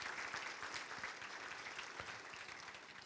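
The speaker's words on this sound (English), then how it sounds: "If we give a nice round of applause." A banquet crowd at a scholarship ring dinner claps steadily in a dense, sustained round of applause.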